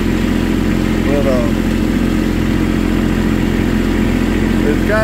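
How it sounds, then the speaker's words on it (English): The three-cylinder diesel engine of a Kubota tractor runs steadily nearby, a constant low chugging rumble that carries under a voice the whole time. "it's got this little three-cylinder diesel, and it'll run all day on a tank of gas"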